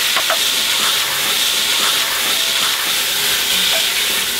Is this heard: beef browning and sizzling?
yes